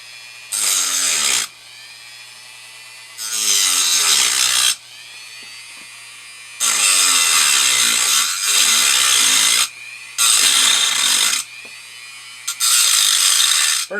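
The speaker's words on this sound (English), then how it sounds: "I need to cut a lip in this one with the Dremel" Handheld Dremel rotary tool cutting a slot into an RC car wheel, heard as five loud, harsh, high-pitched grinding bursts of one to two seconds each, separated by short pauses.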